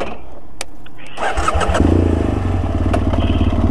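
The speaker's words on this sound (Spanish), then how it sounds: "voy a quitar un poquito la moto en medio" A motorcycle is shuffled into place and then started, its engine catching after a brief crank and settling into a loud, steady, throbbing idle close by.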